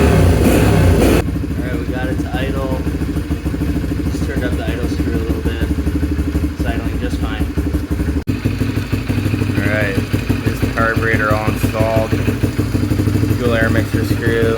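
Yamaha TTR125 dirt bike engine with a Mikuni TM24 carburetor idling steadily, a close, loud putter that runs the whole time while someone talks over it.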